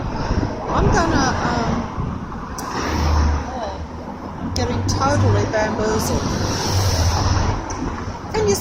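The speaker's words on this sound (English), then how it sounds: "I can't even hear myself here too well, actually, because the traffic is too loud." Heavy road traffic roars loudly and continuously nearby, with passing vehicles swelling and fading as someone talks over it throughout.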